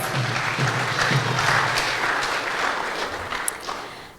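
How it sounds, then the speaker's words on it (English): An audience at a Sunday Love Feast gathering claps in a steady round of applause, dense and fairly close, gradually easing off near the end. "So let's give them a round of applause."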